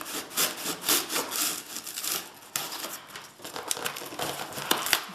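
Cardboard and plastic packaging of Beats Studio Wireless headphones being torn open by hand, a close, continuous ripping and scraping with rough bursts over about five seconds, no talk.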